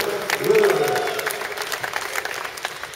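An audience applauds bricklayer Brian Light with a moderate round of scattered claps that starts fuller and thins into lighter, uneven patters, with a voice speaking briefly at the beginning.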